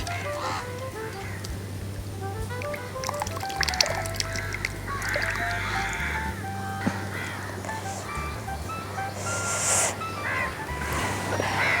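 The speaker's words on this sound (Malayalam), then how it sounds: "അപ്പോൾ ദേ നമ്മൾ കുറച്ച് വെള്ളം കൂടെ ഇതിന് പുറകെ ഒഴിച്ചു കൊടുക്കുന്നുണ്ടേ." Water being poured into a Kerala-style fish head curry simmering in oil, a wet pouring splash running under a steady low cooking hum, with scattered clinks and background clucking of chickens nearby.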